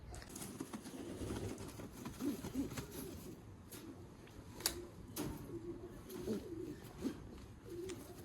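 Low, repeated cooing from sick pigeons murmurs throughout, close by, with a few sharp clicks and taps scattered over the steady background.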